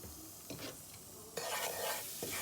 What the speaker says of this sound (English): Then I'm just going to fry my spices.